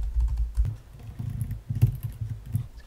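Typing on a computer keyboard while coding a React Native app: close, soft, irregular key taps with a dull low thump, in short bursts and no talk.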